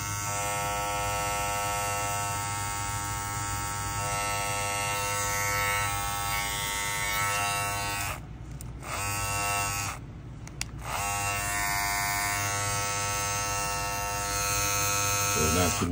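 An Andis Black Label Masters hair clipper runs with a steady, close electric buzz and strong hum, briefly dipping twice as it is moved or switched, otherwise continuous and alone.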